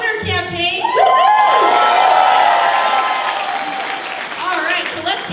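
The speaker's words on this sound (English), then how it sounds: "Oh, what an amazing crowd tonight." A crowd at a Kari Lake for Governor campaign event cheers, whoops and applauds loudly and continuously, with shouts rising above the din.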